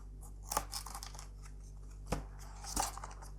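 Packaging for a laptop accessory, a USB Type-C power supply board, being opened, with a few sharp snips and tearing crinkles against a steady low hum, close and without speech.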